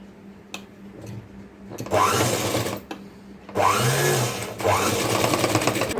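A normal domestic sewing machine runs in several bursts as it stitches around a cloth piece for a decorative design, its motor whirring loud and close with short pauses between runs.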